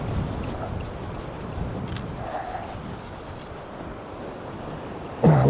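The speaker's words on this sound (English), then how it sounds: "that wind's terrible" Strong wind buffets the microphone on a Bristol Channel shoreline during fishing, a steady broadband rush with surf mixed in, ending in a louder bump of handling noise near the close; no one speaks.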